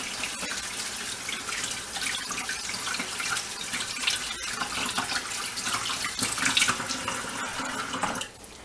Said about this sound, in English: I'll rinse my hands off so I can start.